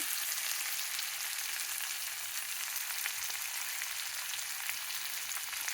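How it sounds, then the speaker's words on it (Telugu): Sliced onions fry in hot oil in a pan for a Telugu brinjal chutney, giving a continuous, even crackling sizzle that stays steady throughout with no voices. "బాగా వేగనివ్వాలి. మీకు తెలుసు కదా, ఉల్లిపాయలు ఎర్రగా వేగాలి."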